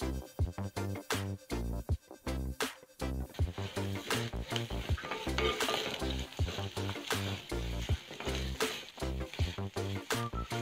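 Garlic sautés in hot oil in a pan for rambutan pickle, a dense, continuous crackling sizzle broken by quick stirring clatters, close and fairly quiet.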